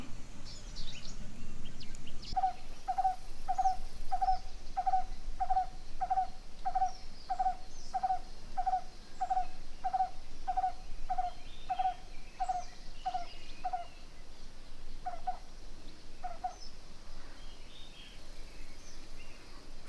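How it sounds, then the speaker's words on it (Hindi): A strange, repeated bird call echoes through a forest on a temple trek near Bangalore, a run of evenly spaced, gobble-like notes at a steady rhythm that pauses and then returns with two more calls, moderately near over a steady background hiss. "फॉरेस्ट के अंदर अजीब व गरीब पंछियों का आवाज़ आते हुए"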